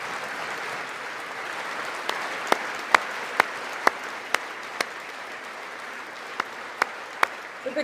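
Applause during a State of the Union broadcast rolls on as a soft, steady bed of crowd clapping, punctuated by a series of sharp, louder individual claps that stand out near the microphone.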